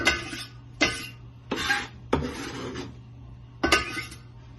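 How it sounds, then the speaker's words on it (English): Several separate clattering bursts as salsa ingredients, cilantro and tomatoes, are dropped and scraped into a cooking pot, each scrape short and close with quiet pauses between. "we're going to add that to our pot"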